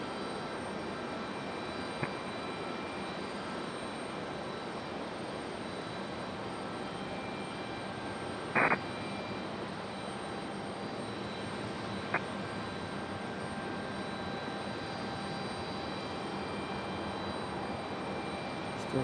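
A United airliner's jet engines hum and rumble steadily from the end of a runway at Raleigh-Durham airport in stormy weather, a constant distant roar with a few faint clicks.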